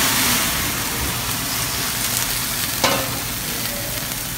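Shrimp skewer marinated in olive oil sizzles steadily on a plain broiler, a constant loud frying hiss close by, with one brief crackle partway through.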